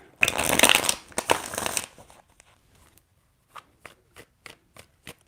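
Tarot cards shuffled in a dense, papery riffle for about two seconds, followed by a sparse run of soft, separate taps as cards are squared and set down, close and fairly quiet.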